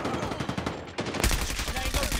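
Rapid automatic gunfire rattles loudly in a Call of Duty Mobile match, dense bursts of shots running through the whole clip, with a voice briefly talking over it.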